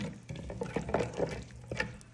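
Bulgur being stirred together with onion in a pan, a soft scraping and light sizzling with irregular stirring strokes, faint and close, ending on a sharper clink.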